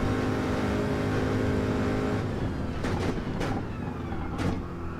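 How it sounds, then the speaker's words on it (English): A Porsche race car engine in Gran Turismo 7 drones loudly and steadily, then shifts through several quick gear changes and revs in the closing seconds, with constant tire and track noise beneath. "The Porsche likes to slide a bit."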